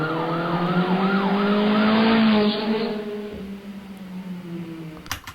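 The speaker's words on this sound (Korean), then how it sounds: "여기는 사이렌 효과음 두 개와 자동차가 달리는 요 소리" Two siren sound effects wail with rising and falling sweeps over the steady roar of a car driving past, loud at first and then fading away, ending in a couple of sharp clicks.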